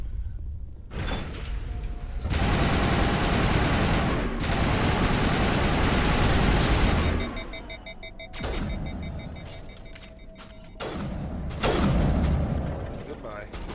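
Gunfire in the game Mass Effect, loud dense bursts of shooting and booms in long sustained stretches broken by short pauses, with an engine-like rumble underneath and some talk mixed in.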